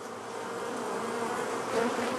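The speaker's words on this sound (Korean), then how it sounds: "침입한 장수 말벌에 때로 몰려들어 열을 46도까지 올려 쪄 죽이는 공격 행위입니다." A dense, continuous buzzing drone of many honeybees mobbing an invading giant hornet, close and steady, filling the whole stretch without pause.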